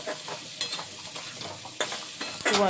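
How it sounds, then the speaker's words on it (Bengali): Chili, cumin and coriander powder sautéed with coconut slices and winter vegetables in oil, a steady close sizzle broken by scraping stirs, with a louder burst of frying near the end. "1/2 টিস্পুন জিরে গুঁড়ো, 1/2 টিস্পুন ধনে গুঁড়ো দিয়ে মশলাটা একটু কষিয়ে নিচ্ছি।"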